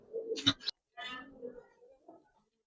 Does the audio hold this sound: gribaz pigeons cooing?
yes